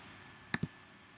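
A computer mouse gives two quick, close clicks in a quiet room while a route is plotted in Google Maps.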